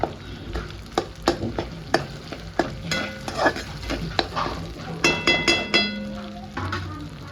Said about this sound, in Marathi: व्यवस्थित मिक्स केल्यानंतर साबुदाणा मिक्स करायचा.